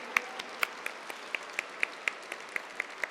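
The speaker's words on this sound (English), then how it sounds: "I'd like to give another round of applause to our mayor of our city" Audience applause at a welcome reception for a development aid conference in Busan, heard as sparse, well-spaced individual claps at moderate distance rather than a dense roar.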